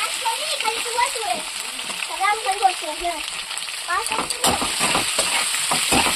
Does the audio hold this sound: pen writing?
no